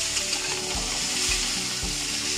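Lightly fried okra with papaya, pointed gourd and other vegetables sizzling in a little oil, a steady close hiss with soft stirring thumps every half second or so.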